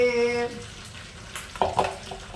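Stuffed eggplants cooked with potatoes fry in a pan with a continuous close sizzle, and a few clattering stirring knocks come near the end after a brief whistling tone at the start.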